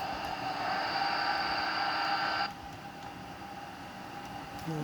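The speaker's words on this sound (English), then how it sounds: "Beautiful takeoff." An airplane takes off with a steady, loud roar of engine noise and high whining tones that cut out abruptly midway, leaving a softer constant rush.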